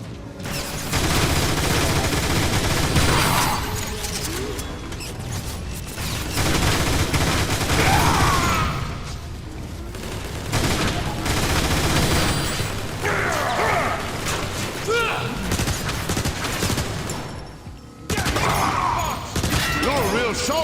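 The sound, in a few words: gunfire in video game Transformers War for Cybertron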